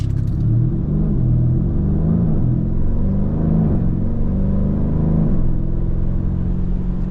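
A 2025 Lamborghini Urus SE super SUV accelerates hard down a road, its engine roaring steadily and loudly up through the gears with sharp, cracking shifts and a continuous low rumble throughout.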